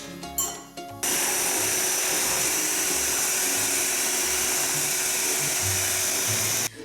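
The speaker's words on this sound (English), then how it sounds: "Start whisking this" A hand mixer whisks a chocolate tartlet mixture of egg yolk and powdered sugar, a loud, steady high-pitched motor whine running continuously after a brief start.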